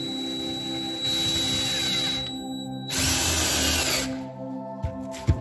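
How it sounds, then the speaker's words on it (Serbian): A Parkside PABS 20 Li E6 cordless drill bores through wood, its loud steady whine running for a few seconds, shifting pitch as the bit bites, then dropping away to a couple of knocks. "Stežemo da vidimo bušenje sa ovim 30."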